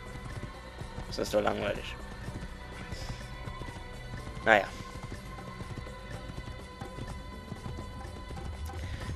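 A horse's hooves clip-clop at a run in the Assassin's Creed video game, soft rhythmic thuds with a couple of louder bursts and a brief whinny, under someone talking in German.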